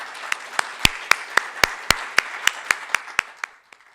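Sparse applause from a small audience at a 2021 federal election candidate dialogue in Surrey, about a dozen distinct claps in a fairly regular rhythm, nearby and crisp, thinning out toward the end.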